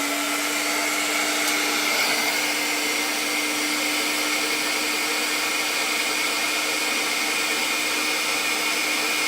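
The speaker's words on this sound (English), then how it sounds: "So nice modern high-tech hairdryer here. So we'll give that a blast." A modern high-tech hairdryer blows at close range, a loud, steady whooshing whine with a constant pitch that runs unbroken for the whole stretch, with no voices.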